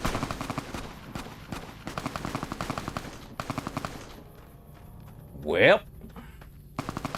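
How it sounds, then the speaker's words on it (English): Bursts of rapid automatic gunfire from the video game Fallout: New Vegas, distant and fairly quiet, in several rattling volleys over about four seconds, with someone speaking briefly. "I hear gunshot."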